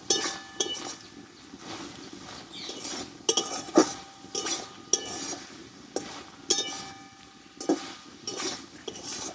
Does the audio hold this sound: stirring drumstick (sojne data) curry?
yes